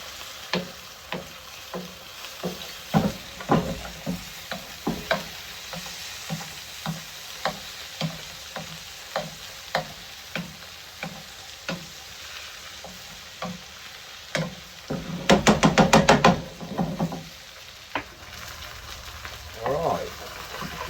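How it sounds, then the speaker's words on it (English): Thornback ray fillets frying in a pan with a big chunk of butter and being basted: steady sizzling under rhythmic spoon taps and scrapes every second or so, with a louder burst of spluttering midway and someone talking briefly. "Big chunk of butter in. And then start basting."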